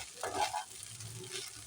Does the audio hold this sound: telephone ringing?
no